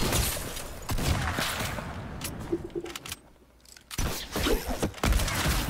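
Bursts of rapid gunfire from a shooter video game crackle loudly, dropping to a brief quiet lull before another volley of shots resumes near the end.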